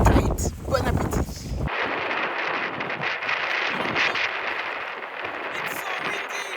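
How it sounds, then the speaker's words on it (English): Strong wind in the Egyptian desert buffets the microphone, starting with a loud rustling burst and settling into a steady, broad roar. "Very, very windy. In the middle of the desert."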